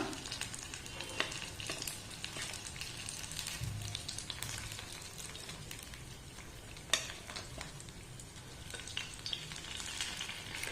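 Steady crackling sizzle of banana fritters deep-frying in plenty of oil, with occasional soft scrapes and clicks of stirring.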